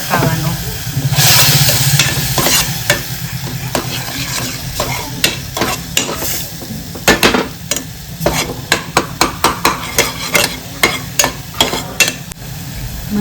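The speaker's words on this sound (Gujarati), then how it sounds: "પછી થોડું પાણી નાખીને મસાલો પકાવવાનો" Masala of chili, coriander-cumin powder, turmeric and salt cooking in a pan after water is added, a loud bubbling hiss at first, then a long run of sharp spoon taps and scrapes against the pan.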